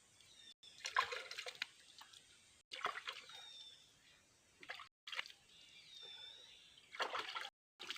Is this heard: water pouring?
yes